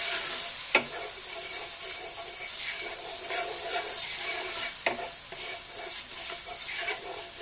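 Balsamic vinegar being stirred into a pan sauce for filet mignon, a continuous bright sizzle and hiss with spoon scrapes and two sharp clinks against the pan, heard up close with no talking.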